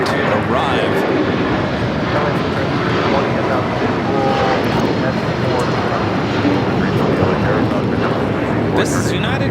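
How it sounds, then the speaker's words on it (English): A United Airlines Boeing 757-300 jet takes off from LAX with a loud, sustained engine roar that stays dense and steady from start to finish. "This is United Airlines 1260 taking off to Denver, Colorado on the 757-300"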